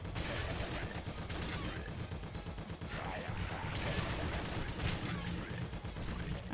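Rapid bursts of Morph-o pistol fire in the video game Nuclear Throne, played as dense, continuous shooting with overlapping impacts and effects throughout.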